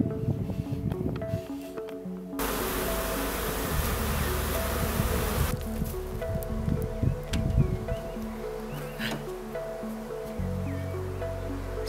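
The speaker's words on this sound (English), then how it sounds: "The bees keep coming over here and drinking the water" Bees from nearby outdoor beehives buzz continuously around an outdoor bathtub where they drink water, a close, steady drone with individual insects passing by.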